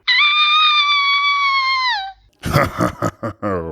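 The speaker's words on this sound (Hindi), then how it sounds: "उसने जैसे ही देखा, उसकी जोर से चीख निकल पड़ी।" A witch in a Hindi horror story lets out a long, loud, shrill scream lasting about two seconds, followed by a burst of harsh wailing and sobbing cries, close and intense.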